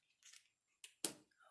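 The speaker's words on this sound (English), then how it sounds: "I'm going to bring in some scissors and just snip that" Scissors snip paper in a few quiet, short cuts up close, crisp separate snips spread across a brief moment with nothing else around them.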